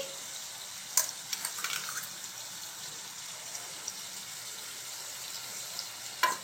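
Chicken frying in a pan as chili powder goes in, a soft steady sizzle with a few faint clinks and taps scattered throughout.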